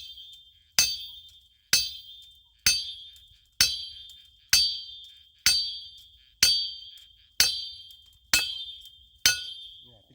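A hammer strikes a metal spade ten times in a slow, even rhythm while cutting bamboo rhizomes, each blow a sharp ringing clang that fades before the next.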